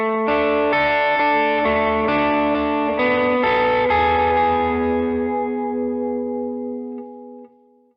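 Electric guitar chords ring out through chorus and echo effects, struck in sequence and then left to sustain and fade slowly.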